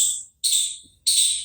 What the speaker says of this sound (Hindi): तो चलिए हमारे चिड़िया उड़िया सबकी आवाज तुमको सुनाई देगी